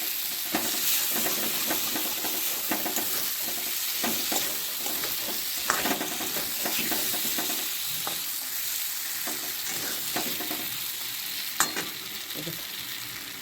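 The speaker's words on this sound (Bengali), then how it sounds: "আলুগুলো দিয়ে একটু নাড়িয়ে চাড়িয়ে নেব, একদম কম আছে, ধিমে আছে, একটু ভেজে নেব।" Potatoes stirred and fried in oil in a pan over low heat for an old-style Bengali dish, giving a steady close sizzle broken by scraping stirs and occasional sharp clinks, with no voices.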